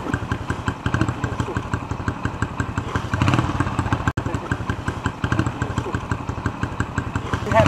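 A motorcycle engine putters and revs close by on a ride in Vietnam toward Saigon, its rapid pulsing thrum rising and falling as the bike rides along, with no talking.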